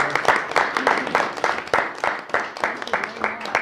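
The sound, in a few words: audience applause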